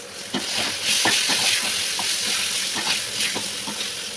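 Eggplant frying in a pan with turmeric, salt, black cumin and green chilies, stirred with a spatula: a loud close sizzle broken by repeated scraping strokes, with no talking.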